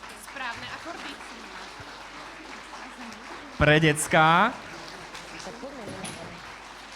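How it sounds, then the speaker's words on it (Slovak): An audience applauds the teachers and children at a Christmas concert of an art school in Turany, with steady clapping filling the hall while someone speaks into a microphone over it. "Takže veľký potlesk pre pedagógov,"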